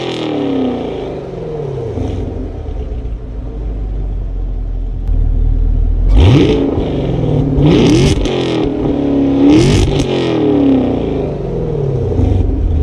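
A Chevrolet Camaro SS with active exhaust idles with a deep, steady rumble, then is revved in several loud, sharp bursts near the car, each rising and falling back to the burble, with no talking.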